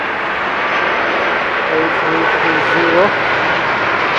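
A large airliner approaching to land in heavy fog produces a steady, broad engine roar that holds at a constant loudness, while a person speaks briefly over it.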